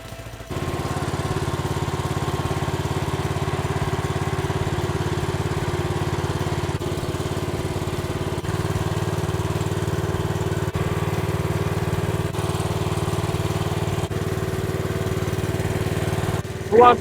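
A small engine on an AGT Chinese mini skid steer runs at idle on half choke, a steady loud mower-like putter that holds even throughout, ending with a brief louder blip.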